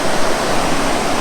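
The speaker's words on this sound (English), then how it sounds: "Can't get tired of this sound of the water going by." Steady rushing water of a river flowing by near the Lake Superior shore along the Sand River trail, a continuous broadband roar heard close and alone.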